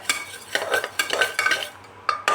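Dry mung dal being roasted and stirred in a pressure cooker, a close scraping and rattling of lentils against metal in repeated strokes with short pauses, ending with a couple of sharper scrapes; no talk.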